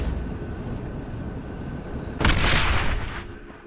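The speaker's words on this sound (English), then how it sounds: "That's a good sound, that explosion." Explosion in the fantasy game Citadel: Forged With Fire: a low ambient rumble is broken by a sudden loud blast with a bright crackling burst that rings out and fades over about a second.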